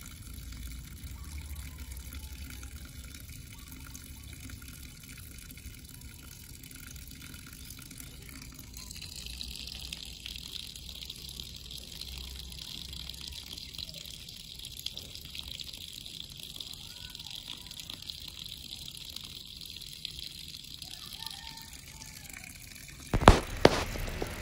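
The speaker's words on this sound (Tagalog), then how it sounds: "Lagyan lang po natin ng tubig yung ating timba na may laman na pib." Water pours into a bucket at a pig pen, a low trickle that swells partway through into a steady, hissing gush and ends with a couple of sharp knocks.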